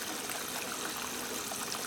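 Water pours steadily into a ten-gallon ultrasonic parts cleaner tank, a continuous close rushing and trickling with no talk.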